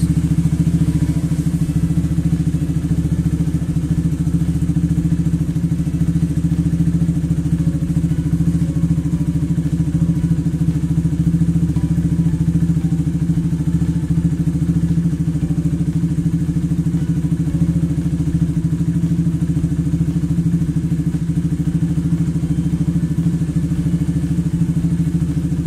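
Motorcycle engine idling steadily while it warms up, a low continuous thrumming with a faint clatter, close and loud throughout, with no speech and no revs.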